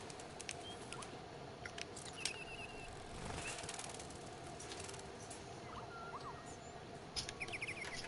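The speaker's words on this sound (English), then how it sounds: "Robot budgies." Robot budgies in the video game Detroit: Become Human chirp in faint, scattered tweets and short trills over a steady low background hum, quiet and without speech.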